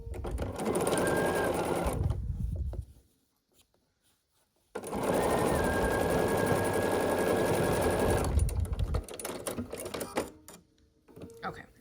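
A sewing machine stitches quilt block pieces for a scrappy sampler in two steady, close runs, separated by a short near-silent pause, with a fast even mechanical whir.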